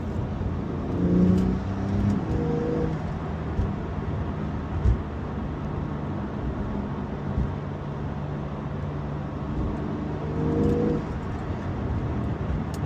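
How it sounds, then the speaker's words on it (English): A Porsche Carrera 911 engine accelerating, heard from inside the car as a steady mid-level drone, with rising tonal sweeps near the start and again near the end that suggest a faint turbo whistle. "when you get on it, you can even hear a little bit of turbo whistle"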